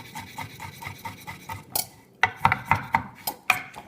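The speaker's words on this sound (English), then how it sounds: "I'm chopping the turtle meat to put in the soup" A knife chops turtle meat into small pieces on a board for green turtle soup, first in a quick even run of light taps, then after a pause in a few sharper, louder knocks, close up with no talking.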